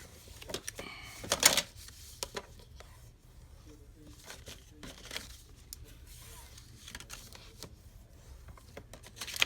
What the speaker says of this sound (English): So now we can make our box. We're just going to fold it up.